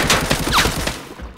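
A rapid burst of gunfire from the shooter video game Arena Breakout, several close, loud shots in quick succession that then fade.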